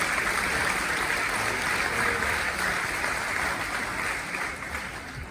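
Audience clapping at a mayor's New Year ceremony in Saint-Victoret, an even hiss of many hands sustained throughout and slowly tapering near the end.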